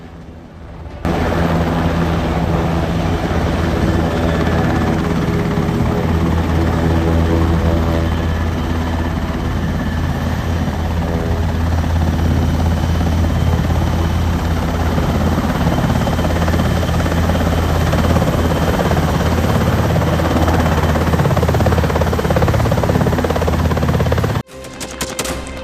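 An NH-90 military helicopter flies low, its steady heavy rotor thump and turbine roar filling the scene loudly and continuously before cutting off near the end.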